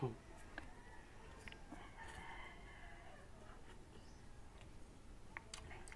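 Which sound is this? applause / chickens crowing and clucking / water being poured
chickens crowing and clucking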